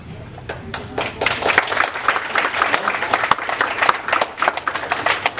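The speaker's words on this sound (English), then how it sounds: "Thank you for clapping for my performance." An audience at a school board meeting claps after a student's turn, a close, uneven scatter of individual hand claps from a modest group, irregular and lively throughout.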